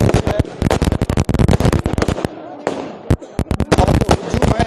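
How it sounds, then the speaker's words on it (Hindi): Fireworks burst at a 56th birthday celebration in a crowded outdoor gathering, a dense run of loud, sharp cracks and pops that come in rapid volleys with a short lull in the middle, while people talk underneath. "और आतिशबाजी भी आप देख सकते हैं।"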